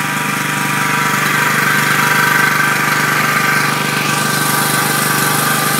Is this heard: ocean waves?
no